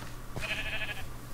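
A single short bleat from a sheep in a video game rises briefly over a quiet, humming background, with no one speaking.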